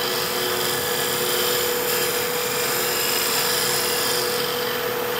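A steady, continuous scraping hiss of a skew chisel cutting wood on a spinning lathe, loud and unbroken with a faint motor hum underneath.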